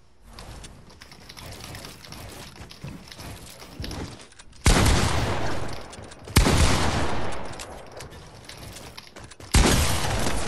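Rapid bursts of gunfire from the game Fortnite, with a stretch of lighter shots followed by three loud, sharp blasts separated by brief pauses, close and dominant with no voices.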